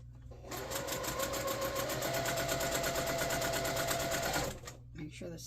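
A sewing machine runs steadily for about four seconds while stitching a diamond-pattern quilted table runner, a loud close whirring with a rapid even needle rhythm that starts and stops cleanly.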